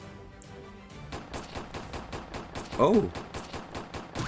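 Rapid, regular bursts of automatic gunfire from video-game enemies rattle on continuously, growing louder partway through, while a voice briefly exclaims over them.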